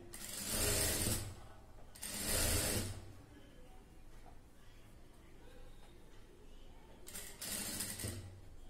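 A sewing machine stitches a 35-inch blouse in three separate whirring runs of about a second each, separated by quieter stretches of faint handling noise.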